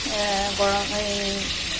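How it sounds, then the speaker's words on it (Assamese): Ingredients fry in a hot pan before boiled lentils go in, making a close, steady hiss and sizzle with a faint tonal hum layered over it. "আগতে ভাজি লওঁ, বঢ়িয়াকৈ ফ্ৰাই কৰি লওঁ"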